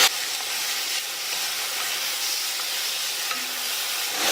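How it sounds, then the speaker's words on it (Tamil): Chopped tomatoes sauté with onion in a pan for a Tamil-style cauliflower side dish, giving a steady, close frying hiss with faint stirring scrapes throughout, no voices. "தக்காளி 2 நிமிஷமா வதங்கிடுச்சு."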